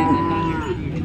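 A cow at the Modnimb cattle market gives one loud, close, drawn-out moo that slides slowly downward in pitch.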